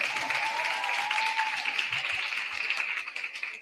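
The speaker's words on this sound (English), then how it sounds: "Round of applause to them once again." Applause from an audience at a primary school environment quiz grand final, honouring the first and second place winners; steady, dense clapping sustained throughout, moderately distant with no talk over it.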